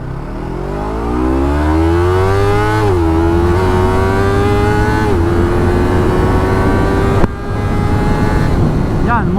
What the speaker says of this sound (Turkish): motor gidiyor işte normal